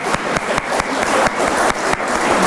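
Audience applause at a college foundation roast event, a steady wash of clapping from a crowd that carries on through the whole stretch with small dips and swells.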